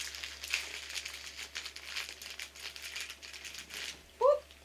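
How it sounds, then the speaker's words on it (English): Plastic package torn open by hand, close crinkling and rustling throughout, ending in a short sharp burst, with a voice briefly audible near the end. "I'm gonna tear it open."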